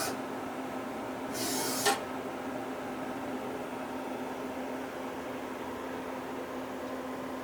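A 2006 Citizen M20V gang-turret CNC Swiss lathe runs its full C-axis, giving a steady, even mechanical hum with a constant tone, broken once early on by a short burst of hiss.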